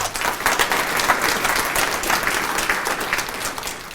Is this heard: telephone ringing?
no